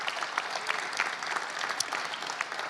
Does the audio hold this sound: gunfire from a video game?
no